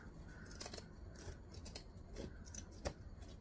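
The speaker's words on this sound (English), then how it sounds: "you can trim off some of this seam allowance" Zigzag scissors snip through the layered fabric seam allowance of a sewn travel bag, giving a few quiet, separate crunching cuts spaced over a few seconds, close by with no talking.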